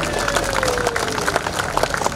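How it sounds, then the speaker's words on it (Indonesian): An audience at a gathering near Istiqlal applauds in a dense, continuous wash of many hands clapping at moderate volume, with a faint steady tone underneath. "Tepuk tangan."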